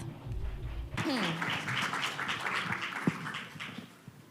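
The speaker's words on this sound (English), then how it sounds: "Please give them a big round of applause." An audience applauds at a conference closing ceremony, a steady patter of clapping that swells after a brief pause and then slowly fades, with a voice heard briefly over it.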